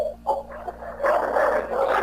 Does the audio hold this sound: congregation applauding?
no